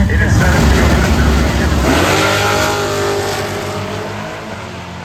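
The 50 Shades of Brown Mustang, a Bowie, Texas drag racing car, roars loudly down the track in a sustained, rising engine blast that slowly fades as it pulls away, with a commentator talking over it.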